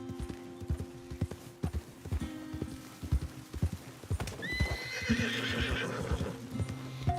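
Horse hooves clip-clop at a steady walking rhythm in Red Dead Redemption 2, then the horse lets out a loud, wavering whinny partway through, close and clear over faint background.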